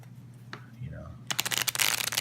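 A brand new deck of Bob Ross board game cards, just out of the plastic, is shuffled: a short rapid flurry of crisp card flicks follows a brief murmur of voice.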